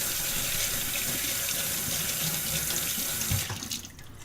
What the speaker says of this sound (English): run some water through to wash off any dust that might be on the seed